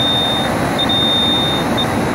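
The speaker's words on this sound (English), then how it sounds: "Occasional beeps," A TIF 4000A electronic sight glass detector, clamped on an R22 line at a TXV on an HVAC system, gives a loud, high, steady electronic tone with brief gaps, sounding over constant noise.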